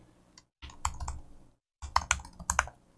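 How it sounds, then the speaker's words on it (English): Typing an email address on a computer keyboard: two close bursts of crisp key clicks separated by a brief pause, the second burst quicker and sharper. "But what we could do here is we can actually type in an email address,"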